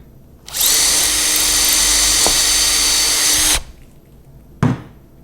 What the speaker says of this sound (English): I can just drill down for the access hole for the Allen key